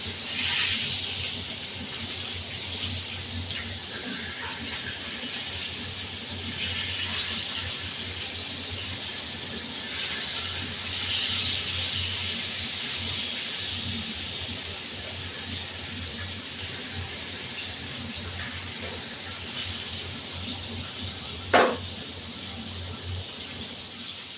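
Rohu fish fries in mustard oil in a pan. A steady, soft sizzling hiss continues throughout at moderate distance, with one brief sharp clink near the end and no talk.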